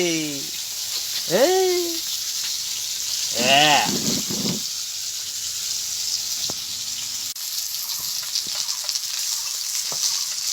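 Fish fries in oil in a rural Bengali kitchen, a constant close sizzle and crackle that runs throughout. Voice-like sounds with rising and falling pitch come near the start, and occasional stirring or utensil taps follow.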